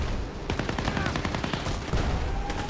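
XM8 rifle fire in the Battlefield video game crackles in rapid automatic bursts, sharp repeated shots packed closely together over a faint ambient bed, no speech.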